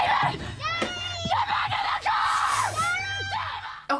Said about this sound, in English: y'all are yelling and making a bunch of noise